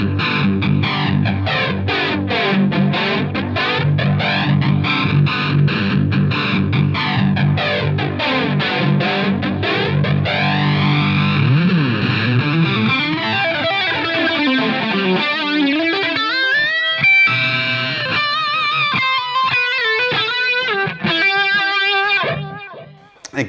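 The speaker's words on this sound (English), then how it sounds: "We're now going to hear the Lagrange pedal before the flanger." Electric guitar run through a Lagrange distortion pedal ahead of a flanger on a Line 6 Helix, a loud, saturated, continuously played passage with sweeping jet-like flanger swooshes, ending in choppier picked notes and chords.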